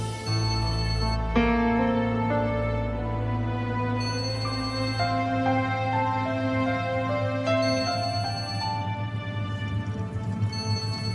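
A steady electronic ringtone melody plays continuously, loud and close, with layered tones repeating in phrases.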